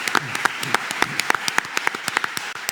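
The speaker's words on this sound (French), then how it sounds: "Applaudissements pour Pierre-Marie Perrin." Audience clapping at a live public talk event, a short burst of scattered individual claps, fairly close and moderately loud.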